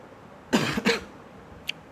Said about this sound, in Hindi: सेम खांसी आ रही है